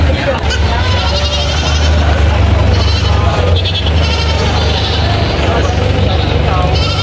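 Goats bleating at a busy livestock market in the Philippines, several calls rising over a constant loud crowd hum, engine rumble and nearby talk.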